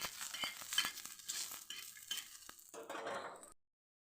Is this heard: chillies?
yes